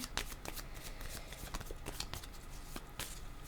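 Tarot cards being shuffled by hand, a steady run of crisp riffling snaps and soft slides repeating close up with no talk.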